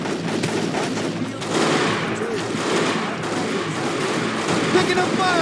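Continuous gunfire from a fortification in Delta Force: Black Hawk Down, a dense rattle of automatic shots amid battle noise, with voices shouting over it.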